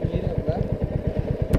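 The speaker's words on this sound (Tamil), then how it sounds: "ஏன் வண்டியை முறுக்கிட்டு போயிட்டு இருக்கீங்க ப்ரோ?" A Royal Enfield Hunter 350 motorcycle engine throbs with a steady, close, loud pulsing idle and rev, each low firing beat distinct, then a short sharp burst near the end.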